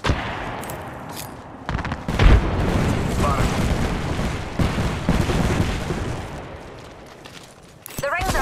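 A grenade blast in the Apex Legends battle royale game, a loud boom about two seconds in, with dense gunfire and explosive effects rumbling throughout and a fresh burst near the end.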